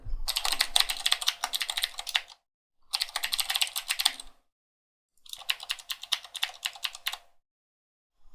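Typing on a computer keyboard while filling in a WordPress user form, three bursts of rapid, steady key clicks separated by short pauses, close and clear with no talk.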